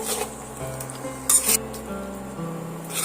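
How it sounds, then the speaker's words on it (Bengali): Tomatoes with salt frying in a pan, a soft steady sizzle with occasional stirring clinks of utensil against metal, close and alone without talk. "এইভাবে আমি কিছুক্ষণ ধরে টমেটোটা ভালো করে ভাজা করে নেব যতক্ষণ না টমেটোটা নরম হচ্ছে"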